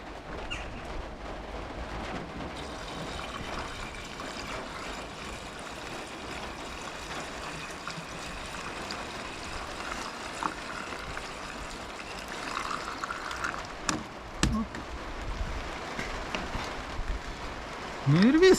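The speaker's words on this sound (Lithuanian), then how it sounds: "Įsipilam vandenėlę langam valyti." Windshield washer water pours into a car's reservoir, a steady trickling stream that runs for a long stretch before ending with a louder splash and clunk.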